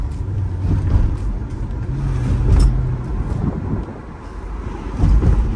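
A 2005 Mercedes SL500 converted to coilovers drives along, its steady low engine and road rumble continuous throughout with some wind buffeting, no talking.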